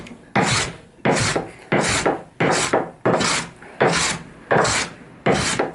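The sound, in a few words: hand plane planing timber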